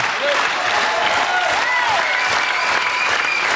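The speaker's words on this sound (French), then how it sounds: "On va joindre à vos applaudissements Pierre Bouteiller aussi." Studio audience on a French radio comedy show applauding loudly and continuously, dense clapping throughout with a few voices calling out above it.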